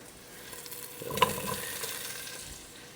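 Andouille sausage hits a hot pan for red beans and rice, giving a brief loud sizzle that settles into a steady, softer frying hiss.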